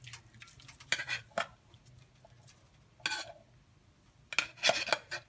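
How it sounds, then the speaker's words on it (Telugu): Pre-cooked rice tipped into a pan for Sankranthi nuvvula pulagam and stirred, with scattered scraping and clinking bursts of a spoon against the pan separated by quiet gaps over a low hum. "ముందుగానే ఉడికించుకున్న రైస్ వేసుకోవాలి"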